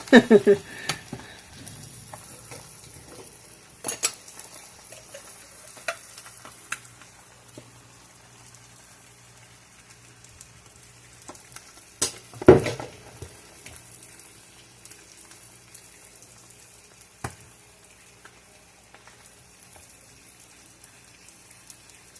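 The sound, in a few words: breakfast sandwich food sizzling on stove top griddle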